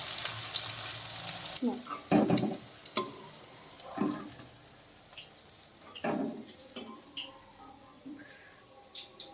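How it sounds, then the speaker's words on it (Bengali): Capsicum and green chillies frying in a pan, a steady background sizzle broken by several louder stirring scrapes and splashes at irregular intervals. "ক্যাপসিকামটা ভেজে নেব আর ক্যাপসিকামের সাথে কয়েকটা কাঁচা লঙ্কাও আমি ভেজে নেব"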